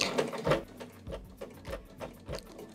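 A sewing machine stitches a quilt in short bursts, its needle clattering in quick rhythmic runs separated by pauses, close and moderately loud.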